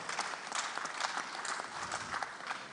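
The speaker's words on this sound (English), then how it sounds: "Please a round of applause to her." Conference attendees at the 8th WISTA Africa regional conference give a speaker a round of applause, with fairly faint, continuous clapping from a crowd.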